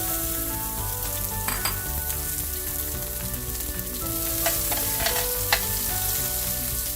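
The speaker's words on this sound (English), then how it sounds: "So we're going to start by sauteing our onions first." Onions sauté in a teaspoon of oil in a hot grill pan on the stove, a steady close sizzle with a few sharp clinks and scrapes of stirring over the continuous frying hiss.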